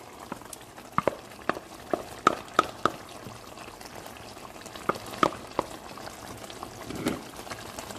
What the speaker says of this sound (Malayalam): ഇത് കണ്ടോ, ഇതിപ്പം തിളച്ച് വരുന്നുണ്ട്.